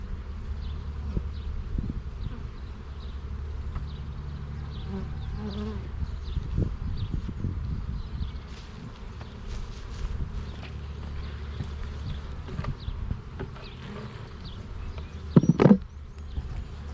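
A honeybee swarm hums in a low, steady drone, with loose comb fallen to the bottom of the box. The buzz is moderately close, with a few knocks and handling noises and a sharp bump near the end.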